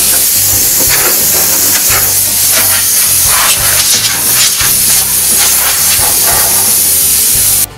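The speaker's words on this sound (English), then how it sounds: "take an air hose set at 80 pounds of pressure, and I'm going to blow all the crud out of this thing" Compressed air at 80 psi blasting debris out of a John Deere LA145 lawn tractor, a loud continuous hiss that pulses and sputters steadily throughout with no talking.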